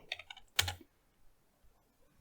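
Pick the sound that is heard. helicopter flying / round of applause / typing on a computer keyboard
typing on a computer keyboard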